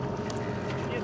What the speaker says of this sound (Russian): Примерно полчаса рев моторов слышен повсюду.